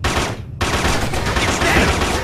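Sustained gunfire in the video game Killzone, a loud continuous burst of shots that drops out for a split second and then resumes, filling the whole stretch with dense crackling reports.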